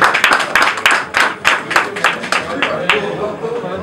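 An audience at an album launch in Paris claps and cheers, dense, rapid clapping from many hands close by, blended with voices and calls throughout.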